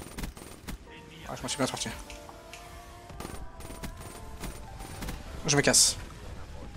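Bursts of automatic gunfire ring out in a video game fight against a robot enemy, rattling in quick clusters with a sharper burst near the end. Someone talks in French over the shooting.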